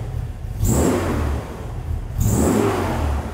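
A 1981 Toyota Hardtop FJ40 engine revs twice, each rev swelling from a steady idle to a strong close roar and easing back.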